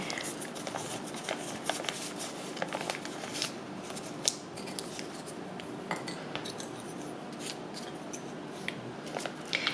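Conditioner and scalp scrub ingredients stirred into a thick paste in a bowl, giving close, steady scraping and clinking of a utensil against the dish, with brief sharper taps scattered throughout.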